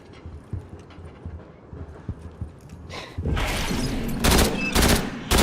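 Gunfire in a Resident Evil-style survival horror game: faint thuds and scattered knocks at first, then several loud close bursts of shots toward the end.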